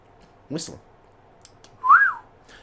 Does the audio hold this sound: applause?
no